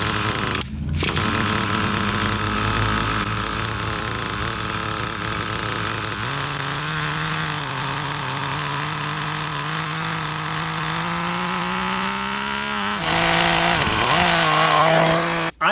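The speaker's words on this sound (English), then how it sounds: "start it, press this button, boom, it fires right up." A Traxxas T-Maxx 3.3 nitro RC truck engine fires up and runs loud and close, a buzzing, raspy two-stroke drone that holds steady and rises slightly in pitch before cutting off abruptly at the end.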